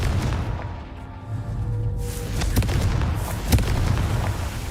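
Confringo blasting spell going off in the Hogwarts Legacy video game: a sudden sharp boom rises over a steady low rumble of game noise, followed by a few crackling impacts, loud and close.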